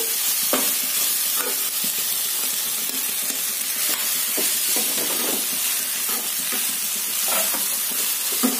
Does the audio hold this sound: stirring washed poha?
yes